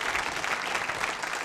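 An audience at a nursing college quiz show claps steadily in a brief, dense burst of applause, close and even, with no talking over it.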